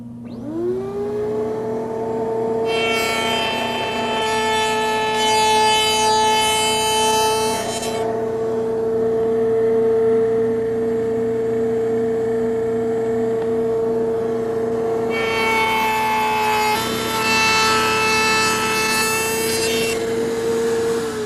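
Wood stock cut on a JoinTech jointing jig with a power saw: the motor whines steadily throughout while two long bursts of loud, bright cutting noise rise as the blade passes through the wood, separated by a quieter run.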